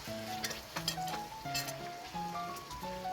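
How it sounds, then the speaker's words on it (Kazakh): Marinated meat for Uzbek-style plov fries in a kazan over the flame, giving a steady crackling sizzle while a stepping melody plays in the background throughout. "Енді етімізді баяу отта жақсылап қызарғанға дейін қуырып аламыз."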